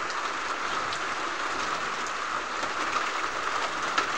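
Heavy rain pours steadily on a farm in a dense, even roar that holds the same level from start to finish, with no voices.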